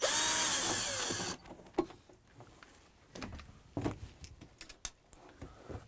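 A power drill runs loud and steady for about a second, backing out screws from a filter cover, then stops and leaves quieter handling clatter and small knocks.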